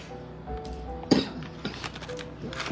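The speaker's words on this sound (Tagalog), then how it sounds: "Bakit ka umuubo dyan?" A single short cough rings out amid quiet room noise, with faint clinks of dishes and some murmuring around it.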